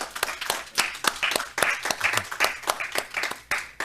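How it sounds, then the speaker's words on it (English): Clapping from a small audience at a Wellspring gathering, sparse and uneven with distinct individual claps in a loose rhythm, fairly close and heard alone. "Let's give him a good hand of applause."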